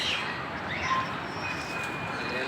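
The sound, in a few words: birds calling at marine park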